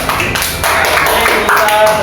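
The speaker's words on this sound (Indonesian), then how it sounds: "tepuk tangan untuk kelompok 2" A classroom group claps in applause for group 2, a brief burst of close, dense hand claps lasting a couple of seconds.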